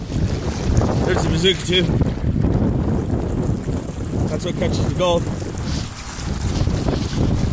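Strong wind roars steadily across an outdoor gold-digging spot, buffeting the microphone while someone talks over it.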